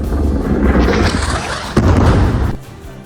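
Daytime airstrike explosion flattening a multi-story building in Beirut: a loud, sustained roaring blast with a sharp second boom midway, then rumbling debris that cuts off abruptly.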